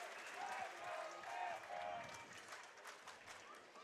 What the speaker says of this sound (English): Classy move, getting another round of applause for it.